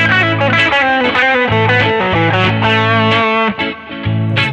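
A distorted electric guitar plays a phrase from the major blues scale, leaning hard on a tension note with emphasis, loud and alone, in short sustained notes with a brief dip near the end.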